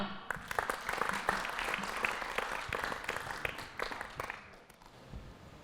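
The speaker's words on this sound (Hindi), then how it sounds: "शानदार, तालियां।" An audience on a comedy show bursts into applause, loud dense clapping that rises quickly and then tapers off toward the end.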